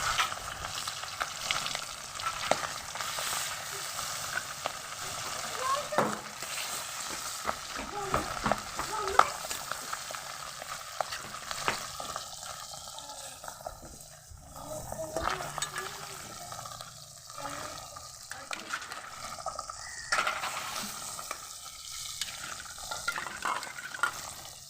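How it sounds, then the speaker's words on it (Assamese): Pabda fish, rubbed with salt and turmeric, frying in hot oil in a pan: a steady, close crackling sizzle with occasional scrapes and clinks of stirring throughout. "পাভ মাছকেইটা মই ধুনীয়াকৈ প্ৰথমতে ভাজি ল'ম"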